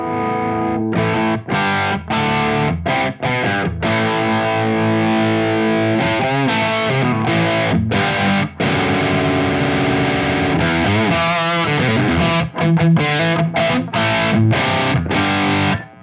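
An electric guitar played through a Synergy Plexi preamp on its gain 2 channel gives thick, woolly, dark distortion, with loud chugging chords and brief choked stops, then sustained ringing notes and a bent lead phrase.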